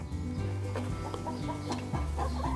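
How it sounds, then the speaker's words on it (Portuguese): Large-breed young chickens in a farm pen, about two metres wide, give low, continuous clucking and murmuring with scattered short calls, close and steady, with no talking. "São frangos de grande porte"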